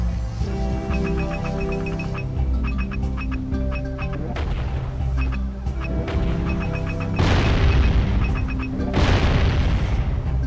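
Heavy booms from a cannon in the video game Jak and Daxter: The Precursor Legacy fire repeatedly over a steady game soundtrack, with louder blasts bursting near the end.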